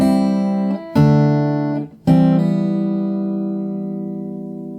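Fingerstyle acoustic guitar plays a short passage of a song slowly: three plucked chords or notes struck a second or so apart, the last ringing out and fading, close and unaccompanied by talk.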